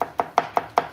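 A heavy, large kitchen knife strikes down on food in five quick, evenly spaced chops, each a crisp, close knock.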